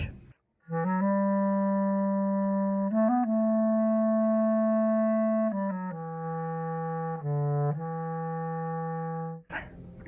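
An oboe holds long, steady notes in its low register, moving stepwise through a few pitches, sustained and solo, fairly close.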